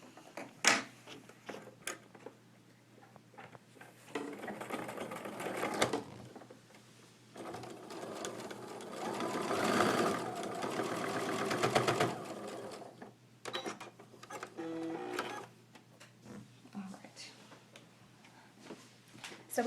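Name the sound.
sewing machine sewing a seam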